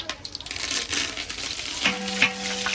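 Curry leaves hit hot oil already tempering with mustard seeds, cumin and bay leaf, giving a steady close crackling sizzle with bright pops and a faint clink of a spoon.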